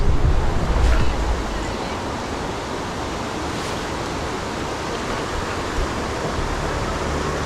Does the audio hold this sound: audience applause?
no